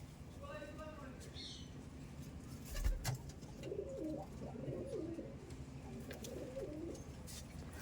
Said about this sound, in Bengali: আসুন তো এই পায়রাগুলো একটু বাইরে